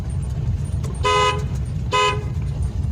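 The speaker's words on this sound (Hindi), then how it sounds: "ब्लाइंड टर्न है, हॉर्न सिग्नल" Car horn honked twice at a blind turn in a narrow lane, two short bright blasts about a second apart over a low idling engine rumble.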